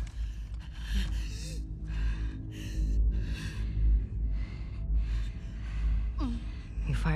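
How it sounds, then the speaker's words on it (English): A wounded character in The Last of Us Part II breathes with labored, ragged gasps and heavy exhalations, close and continuous, over a low background hum. "Your breathing's worse."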